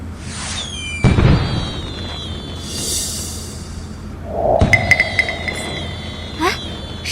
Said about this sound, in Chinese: 是剑圣大人的宣召烟花。